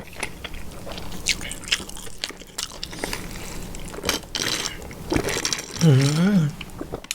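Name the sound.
biting and chewing carrot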